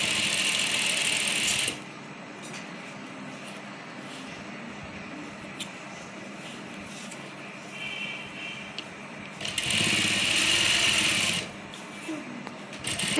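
A sewing machine runs in long steady bursts, stitching a seam along folded trouser fabric, loud and close with brief pauses between runs and no talking.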